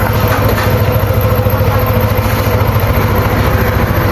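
Idling Yamaha NMAX scooter engine before engine treatment is added: a loud, steady mid-pitched putter running evenly throughout, with no voices.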